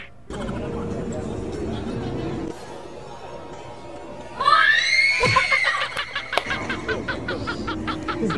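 A woman lets out a piercing, rising scream partway through, close and loud, amid ongoing chatter and clattering noise before and after.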